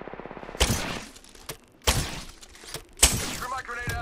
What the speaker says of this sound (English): I hit myself with my own nade